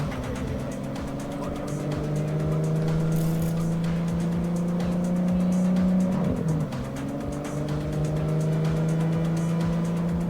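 A damaged car in the video game Cyberpunk 2077 drives on with a steady loud engine hum and road rumble, briefly dipping and rising again midway, with no talking.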